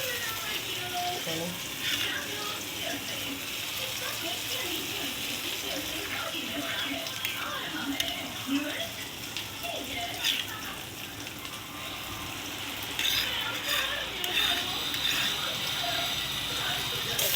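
Spices and fried onions cooking in hot oil, a steady sizzle with scraping and clinking as the pan is stirred, close and continuous, with a voice talking now and then over it.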